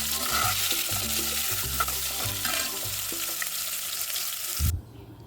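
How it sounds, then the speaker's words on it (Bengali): Potatoes fry in oil with a constant, close sizzle, joined by low clunks and scrapes of stirring, before the sound cuts off abruptly near the end. "একটু আলু ভেজে দেবো।"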